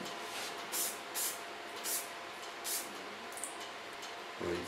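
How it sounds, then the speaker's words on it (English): Hairspray is sprayed onto a wavy bob haircut during salon styling, a series of four or five short, crisp aerosol hisses at close range, spaced about half a second apart over a quiet room. "Take on that a little bit hairspray"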